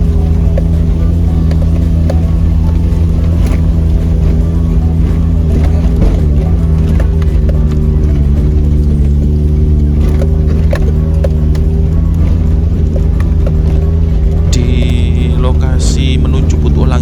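A jeep climbs steep rocky off-road slopes of Mount Arjuna with sharp turns, its engine giving a loud, steady rumbling drone throughout with rattles and jolts on top.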